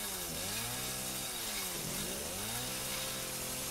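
A chainsaw in Resident Evil 7 revs steadily and loudly, its engine pitch sweeping down and back up mid-clip as it bites and releases, with no talk over it.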